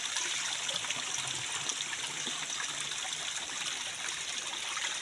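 Water pours steadily into a container outdoors on a farm, a continuous close splashing trickle that runs evenly throughout without pause.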